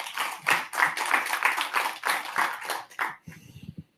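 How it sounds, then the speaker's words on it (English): Audience applause after a talk at a firmware technology conference, a dense wash of clapping from a room of listeners that cuts off abruptly, leaving only a few faint scattered taps. "Let's have another round of applause."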